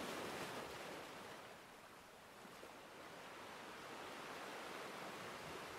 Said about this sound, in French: le son des vagues